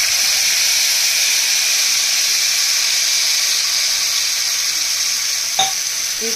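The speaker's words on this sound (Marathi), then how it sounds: "तेल गरम झालंय। आता आपण त्यात मोहरी, जिरे आणि आपला वाटण टाकून घेऊया।" Mustard seeds, cumin and a ground spice paste sizzle loudly in hot oil, giving a steady, bright frying hiss throughout with a brief clink of a utensil near the end.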